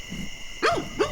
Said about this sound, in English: Stray dogs.